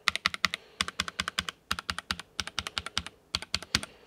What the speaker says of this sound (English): Let's try the QWERTY keys first.